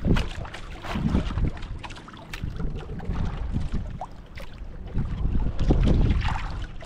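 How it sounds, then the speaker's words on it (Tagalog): A small bangka boat draws near across open water, its low rumbling drone rising and falling under heavy wind buffeting the microphone. "Uwi na isang bangka."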